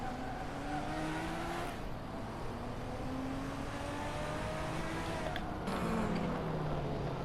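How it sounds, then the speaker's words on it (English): Racing cars, one of them a Porsche, run on a circuit in a race series: a continuous blend of engine drones rises and falls in pitch as the cars accelerate and pass, heard from a moderate distance. "Riley's looking to inconvenience the Porsche driver."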